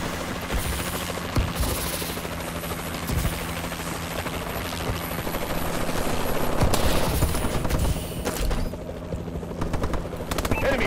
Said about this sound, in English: Friendly warbird in the air